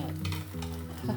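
A messy omelette cooking in a pan, with soft sizzling and frying under quiet stirring and scraping, close and low in level with no voices.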